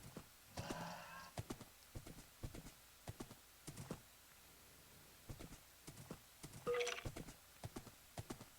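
Horse hooves clip-clop in Minecraft, a run of quick, light, evenly spaced steps that come and go across the clip, with short gaps of quiet between bursts.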